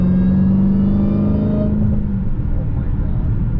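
A 2018 Dodge Challenger Hellcat engine drones loudly on a night drive, a steady low roar that eases off partway through, heard from inside the car.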